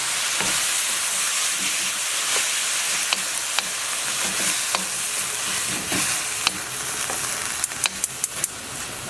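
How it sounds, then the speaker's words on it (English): Bamboo shoots are stir-fried in a hot pan with a constant bright sizzle, punctuated by sharp taps and scrapes of a utensil against the pan as the food is tossed. "Okay, I'm gonna cook my bamboo first, okay?"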